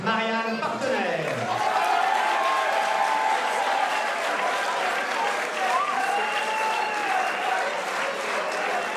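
Audience applause at a French club awards ceremony, a loud, steady wash of clapping lasting throughout, with a tonal voice-like murmur and crowd noise layered on top.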